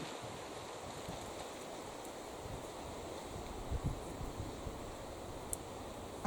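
Wind blowing steadily outdoors in a garden, a broad continuous rushing with a few soft gusts and buffets against the microphone, with no voices.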